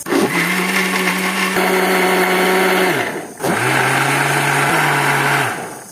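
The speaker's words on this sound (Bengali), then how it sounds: "এখন ব্লেন্ড করে হেলাই" An electric blender whirs loudly, blending a banana milkshake of Sabri bananas, milk and sugar. It runs in two sustained bursts with a short pause between them, and the motor pitch dips slightly in the second run.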